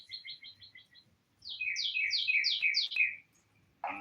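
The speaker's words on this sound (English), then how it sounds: "I'm listening to birds chirping in the background." Small birds chirp outdoors in a backyard with a sprinkler, first a quick run of even high tweets, then a louder descending trill of repeated notes, fairly close and clear against quiet surroundings, ending with a brief low thump.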